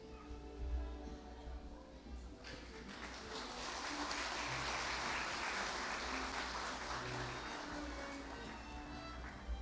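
An audience at a university graduation ceremony bursts into applause that swells after a few seconds and holds as sustained, fairly distant clapping, with some faint low rumble underneath.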